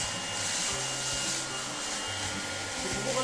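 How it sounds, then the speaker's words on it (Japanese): A handheld household vacuum cleaner runs close by, with a steady loud whooshing hum. Low thumping rattles repeat underneath as the cleaner is moved. "ちょっとうるさいですね、掃除機がね。"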